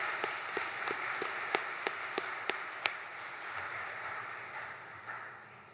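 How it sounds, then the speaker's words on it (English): An audience at a Navy nuclear power training unit graduation ceremony applauds the staff: a distant, dense wash of clapping with a few sharper claps, fading away toward the end. "So one more round of applause for our MPTU staff."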